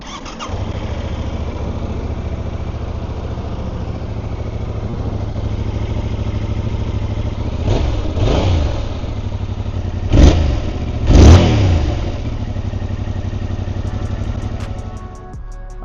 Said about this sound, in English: let's go ahead and hear the bike.